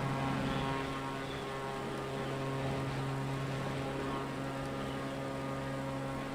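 A stunt plane's propeller engine in Microsoft Flight Simulator drones at a steady pitch, a continuous buzzing hum with strong tonal harmonics and no talk over it.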